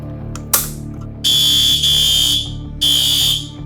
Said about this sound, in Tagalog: everyone must be familiar with the sound of our fire and emergency alarm